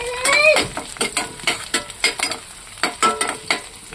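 Chopped onions sauté in a hot pan with mustard seeds while a spoon stirs them, giving a rhythmic series of scraping strokes over a steady sizzle, close and fairly loud.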